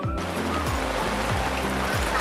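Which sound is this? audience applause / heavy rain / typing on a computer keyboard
heavy rain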